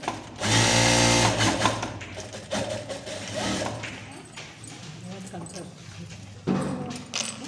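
Close sewing machine whirring in bursts while double-stitching a trouser pocket, loudest at the start and again near the end, with a person talking over and between the runs.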